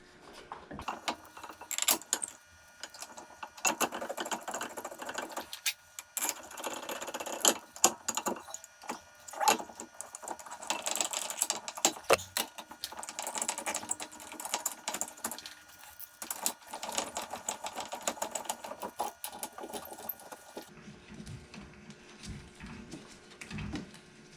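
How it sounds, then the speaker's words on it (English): Bolts go back into the brakes of a 2017 Acura NSX during a pad and rotor replacement. Light metallic clinks, taps and rattles come close up and scattered throughout, with no talking. "We will line this up, put the bolts back in."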